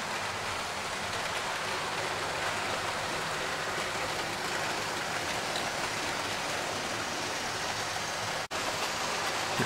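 A Hornby model railway Class 40 locomotive hauling a rake of Pullman carriages runs along the track, giving a steady, dense rolling rumble and hiss that continues without a break, with one brief dropout near the end.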